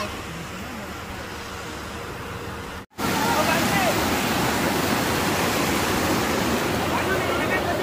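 A river near a lake on the route of the Vaishno Devi pilgrimage rushes in a dense, continuous roar that is loud and close, briefly cut off before resuming; a voice speaks briefly.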